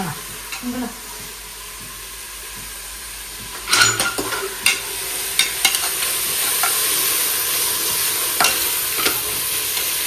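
Tomatoes sautéing in a pan for biryani give a low sizzle, broken by clusters of sharp spatula scrapes and stirring knocks against the metal, heard up close.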